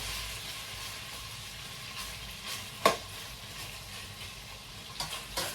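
Oil sizzling steadily in a pan, a continuous crackling hiss with a few sharper pops and a clatter of stirring near the end.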